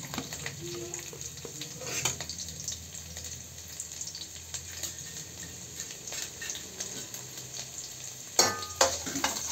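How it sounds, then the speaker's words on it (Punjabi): Garlic cloves dropped into hot mustard oil in a pan, giving a steady low sizzle with stirring scrapes and a few louder clatters near the end, no talking. "ਹੁਣ ਆਪਾਂ ਪਹਿਲਾਂ ਥੋੜ੍ਹੇ ਜਿਹੇ ਲਸਣ ਦੀਆਂ ਕਣੀਆਂ ਪਾਵਾਂਗੇ।"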